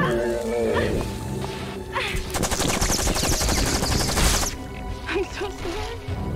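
Rapid video game gunfire crackles loudly in a dense burst lasting a few seconds, with harsh impacts and game noise around it and speech faintly mixed in.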